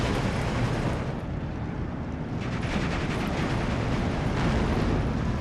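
Continuous rumbling battle din from Steel Division 2, an Italian Decima unit firing on partisans during a WWII hilltop fight at Slutsk, with dense overlapping gunfire and explosions filling the mix at steady loudness throughout.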